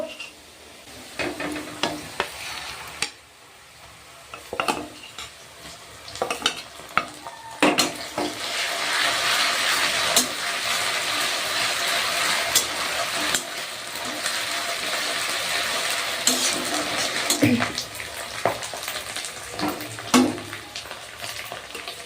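Chilli paste sizzles and fries with browned onions in a pan for a Bengali chicken kosa. Steady hissing runs throughout, with irregular clanking scrapes of a spatula stirring, loud and close, and no talk.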